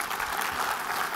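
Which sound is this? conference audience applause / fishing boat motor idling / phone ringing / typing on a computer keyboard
conference audience applause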